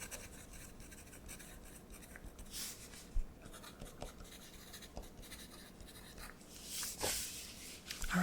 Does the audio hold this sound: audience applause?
no